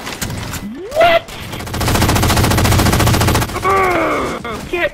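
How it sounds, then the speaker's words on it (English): Gunfire from Halo 4 as a bolt shot and a shotgun trade blows: a sustained burst of loud, rapid shots fills the middle of the clip, with brief sharp reports and electronic game effects before and after. "Your bolt shot does not beat a shotgun, buddy."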